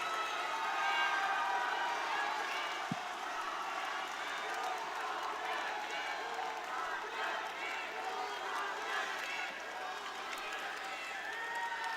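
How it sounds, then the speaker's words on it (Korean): Crowd at a Democratic Party joint campaign rally in Incheon clapping and cheering for candidate Song Young-gil, a continuous wash of applause from a large distant audience that holds steady throughout. "송영길 후보에게 응원의 박수"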